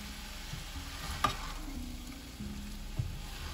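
Spanish rice stirred in a pan over low heat, with a soft, continuous sizzle and occasional scraping taps of a spoon against the pan, quiet and close, with no voices.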